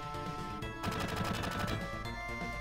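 Rapid bursts of gunfire in the Final Fantasy 7 Shinra building sequence, dense overlapping shots over game music, loud and steady throughout with a heavier volley in the middle.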